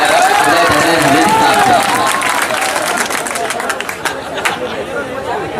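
Dense crowd clapping and babble at an Urdu mushaira poetry gathering, applauding the host; loud at first, then thinning into scattered individual claps and chatter.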